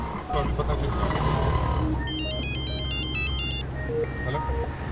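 A phone's electronic ringtone chimes in a repeating melodic pattern for about two seconds, unanswered, over a busy dramatic music bed with traffic-like rumble.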